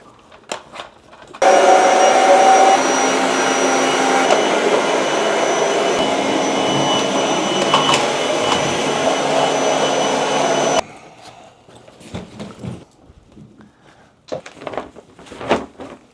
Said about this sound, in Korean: 일반 청소기에 비해서 이 청소기가 아무래도 흡입력이 더 좋다 보니까